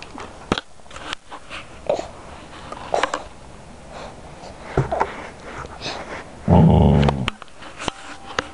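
A protective pet dog growls and sniffs close by, with low rumbles and soft whimpering noises scattered through, and a louder burst near the end.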